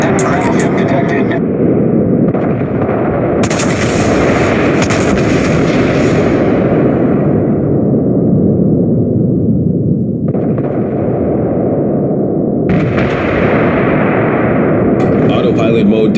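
Warship artillery in World of Warships, during a twilight battle involving the Leviathan, booms as a loud, continuous, rumbling barrage of naval gunfire and explosions that swells and shifts throughout.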